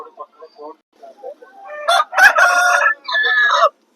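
A rooster crows loudly and close at a country chicken market in Vijayawada, a long drawn-out call following some short clucks.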